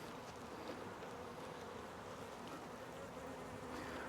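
Honeybee swarm colony humming in a hive box, a steady dense buzz of many bees filling the space, continuous and close without pauses.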